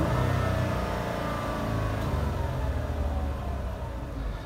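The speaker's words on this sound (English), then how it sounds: "The only thing I've noticed with this engine is it has the slightest little exhaust leak, just a small little tick." A Ford Escape XLT's V6 engine running steadily, a dense low rumble with faint mid-range texture and no clear separate tick from the slight exhaust leak.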